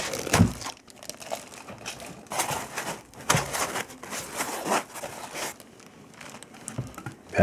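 Packaging for a Timemore Sculptor 078S coffee grinder is unwrapped nearby, with repeated bursts of crinkling plastic and rustling paper separated by brief quieter gaps.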